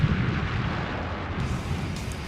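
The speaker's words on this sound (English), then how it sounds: "Insurgent gunfire rings out in the distance." Far-off insurgent gunfire in Afghanistan blurs into a steady low rumble of distant bursts, heard alone with no voices nearby.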